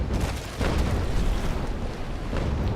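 A ship's cannon fires during naval combat in the game Naval Action, a heavy rumbling boom that rolls on as a continuous low roar through the whole stretch, with no voices.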